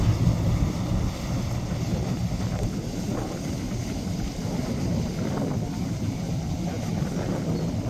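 Steady low rumble of a motorboat with four outboard motors droning along on the water, with wind buffeting the microphone throughout.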